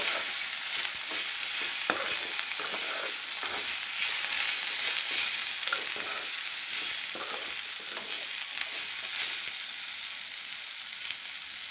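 Tomato pieces with chili powder are stirred and fried in a pan alongside bitter gourd. A steady sizzle runs throughout, broken by repeated scraping and clicking strokes from the stirring, with no speech.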